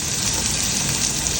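Steak fries in a pan with garlic butter, a loud continuous sizzle and crackle with no pauses, close up and steady throughout.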